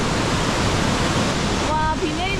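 Waterfall at Plitvice Lakes National Park, a dense steady roar of falling water heard close by, with a brief bird-like chirp or voice near the end.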